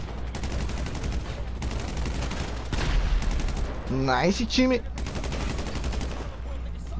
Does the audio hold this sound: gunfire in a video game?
yes